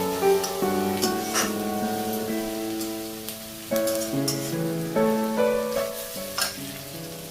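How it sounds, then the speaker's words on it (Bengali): Chopped onion and green chillies fry with a little salt in a pan, making a continuous close sizzle broken by occasional stirring clinks and crackles. "এটাকে আবার একটুখানি ভেজে নেব"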